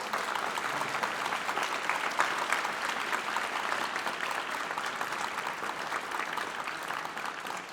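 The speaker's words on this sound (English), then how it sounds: "give their parents a round of applause for supporting them with lessons and instruments" Sustained applause from the audience at a high school honor band concert in Beaverton, a dense, even wash of many hands clapping for the parents, continuing at a steady level without speech.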